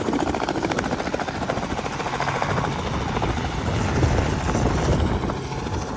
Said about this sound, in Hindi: तो देखो हेलीकॉप्टर्स को कुछ फ़र्क नहीं पड़ता भाई, ये तो बारिश में भी फ्लाई करते रहते हैं।